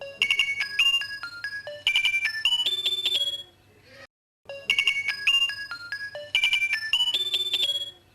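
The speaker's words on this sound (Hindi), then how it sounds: "राबिया बेटी का फोन है कराची से।" A melodic phone ringtone plays a repeating tune twice, with a brief pause between the two loud, clear cycles.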